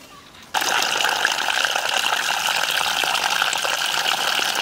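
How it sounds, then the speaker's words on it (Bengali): Taro (kochu) is washed under running water, a steady close gush that starts abruptly after a brief quiet moment and continues without talk. "এই কচুটা ভালো করে ধুয়ে নিই।"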